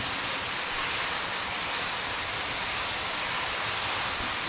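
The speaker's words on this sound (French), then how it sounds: "La cascade souterraine, quoi." An underground waterfall at a hidden dam in the Montagne Noire rushes with a steady, dense roar that stays even throughout, with no voices.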